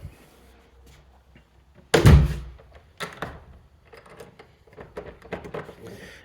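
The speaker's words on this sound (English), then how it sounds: "So I'm going to go ahead and close up this front door." Front door of a house swung shut, a single solid thunk of moderate loudness followed by footsteps and small handling noises in the empty room.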